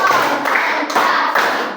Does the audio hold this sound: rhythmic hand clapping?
yes